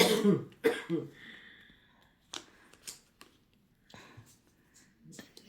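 A few short coughs and throat-clearing bursts come near the start, then scattered rustles and clicks with bits of quiet talk.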